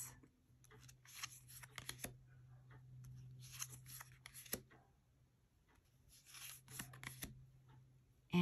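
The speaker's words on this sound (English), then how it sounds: "I'm just going to flip through a few cards" Cards from a Lenormand deck are flipped and shuffled by hand in a quiet room, producing soft papery slaps and riffles in several close bursts with brief pauses between them, and a faint steady hum sits underneath.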